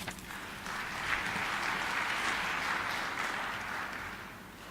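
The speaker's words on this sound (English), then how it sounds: "another big round of applause to Dr. Mohamed Shakur Musa" Audience applause at the opening session of a Tanzania health summit, a steady dense wash of clapping that swells after a moment and holds evenly throughout, fairly distant in a large hall.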